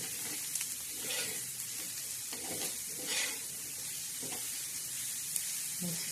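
Finely chopped onion sautés in oil for an onion chutney and is stirred around the pan, a soft continuous sizzle broken by scraping stir strokes at irregular intervals.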